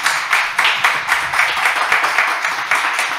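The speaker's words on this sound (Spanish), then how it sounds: "pues un aplauso para los participantes." Steady applause from an audience at a conversation event on sexuality in education, many hands clapping in a dense, continuous patter at moderate loudness with no voices over it.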